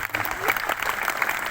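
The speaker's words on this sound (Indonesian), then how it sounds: "Sekali lagi beri tepuk tangan untuk Dani." An audience claps steadily at a high school assembly, a dense, close round of applause that fills the whole moment. Voices carry faintly through the clapping.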